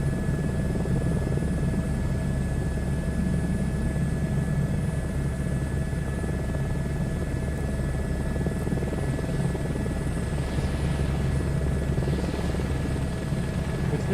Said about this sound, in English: They got the air rushing sound done pretty well.